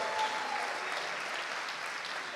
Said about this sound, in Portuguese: Palmas pro Murilo, gente.